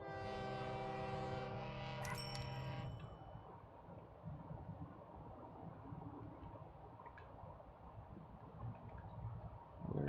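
Train in a video game arriving at a station, a loud multi-tone horn blast in the first few seconds, then a steady low rumble of the approaching train.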